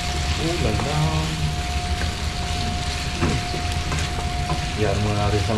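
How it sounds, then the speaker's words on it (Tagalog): Steady rain hisses continuously, a dense, loud wash of noise heard outdoors with no breaks, while a voice is faintly heard underneath. "Kasi maulan ngayon mga kaluko, maulan."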